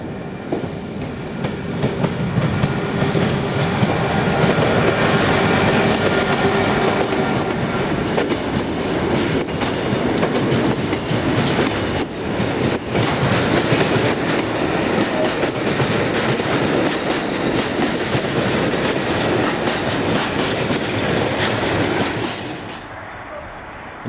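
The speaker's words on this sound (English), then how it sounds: "SNCB number 1206 departs with the 12:30 return freight for Antwerpen docks." SNCB electric locomotive 1206 pulls a return freight train bound for the Antwerp docks in Belgium. A loud, steady rumble of passing wagons carries rhythmic clickety-clack wheel beats for over twenty seconds, then drops away at the end.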